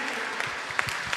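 A church congregation claps in a brief, continuous burst of many hands, with no pause across the short stretch.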